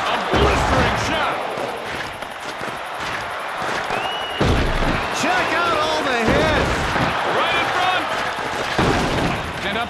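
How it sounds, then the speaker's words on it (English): Arcade hockey action in NHL Hitz 2003 during a Stanley Cup Finals game, with sharp, loud body-check impacts and thuds against the boards mixed with crowd noise and excited commentary. "A huge hit by LaPointe!"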